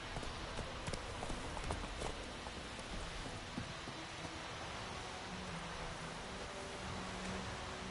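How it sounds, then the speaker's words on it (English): Horse hooves pounding at a gallop in The Witcher video game, a fast rhythmic clatter under a dense wash of rain-like ambient noise, with no talk. "Run, Roach"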